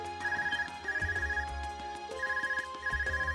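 An Arcus communicator rings in Trails of Cold Steel, a loud, repeating melodic ringtone in steady bursts and no talking.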